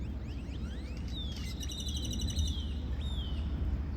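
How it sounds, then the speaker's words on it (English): Birds chirp and tweet in the early morning at Port Aransas. Several thin, sweeping calls repeat over a steady low outdoor rumble, moderately close and with no talk. "The birds are happy"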